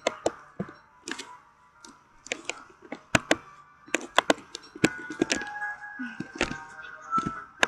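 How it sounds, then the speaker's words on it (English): Rapid mouse clicks and sharp chopping thunks from tree cutting in the video game Don't Starve come in quick irregular bursts, close and crisp, over soft sustained game music tones. "so if you hear me clicking my mouse a lot"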